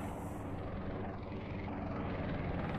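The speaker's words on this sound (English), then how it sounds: "Chopper!" A helicopter in the VR video game Budget Cuts 2 gives a steady, dense rotor and engine rumble that holds at an even level throughout, with no speech over it.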